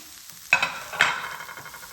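Two quick, sharp stirring scrapes cut through frying cauliflower with spices in a pan, each followed by a rush of sizzle that fades, close and without talk.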